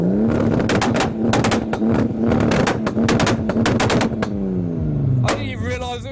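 Toyota Supra engine on 2-step launch control, rapid machine-gun-like pops and bangs crackling loudly over a steady droning idle for about five seconds, then dropping off as the revs fall.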